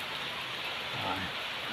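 Steady rain hiss fills the air, a dense even patter of drops falling on surfaces nearby, continuous without pause.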